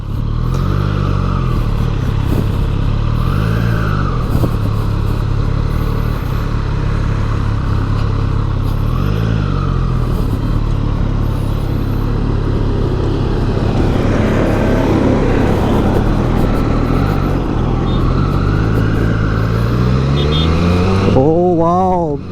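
A 2020 Triumph Street Triple RS inline-three motorcycle engine idles close by, then revs up and down in repeated swells, with a rising rev at the very end.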